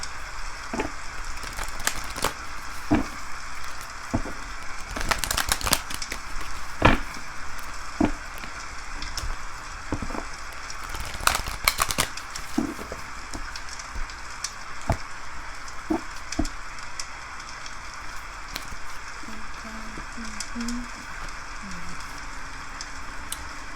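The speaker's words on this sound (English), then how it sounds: "we hear the rain, we're getting warmed by the fireplace" Indoor fireplace crackling as rain falls outside: a continuous gentle rain hiss with scattered sharp pops and crackles of burning wood, heaviest in brief clusters.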